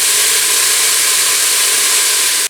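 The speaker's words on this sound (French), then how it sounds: "Alors je laisse ma viande colorer" Meat browning with celery in a pan, giving a loud, steady broadband sizzle that holds without a break for over two seconds and then cuts off abruptly.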